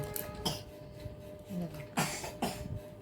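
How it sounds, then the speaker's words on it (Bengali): A child with a cold and a rattling chest coughs in a few short, harsh bursts, two of them close together near the end, over a quiet indoor background. "কাশছে কাশি হয়েছে খুব ঘর ঘর করছে"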